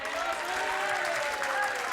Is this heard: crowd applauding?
yes